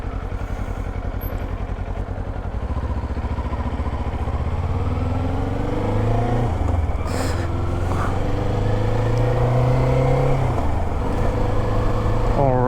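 A car rolls along on a drive, its engine humming steadily up close with shifting tone as it speeds up and slows, plus some road clatter throughout.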